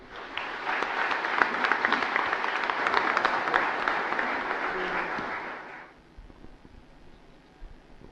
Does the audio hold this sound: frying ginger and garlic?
no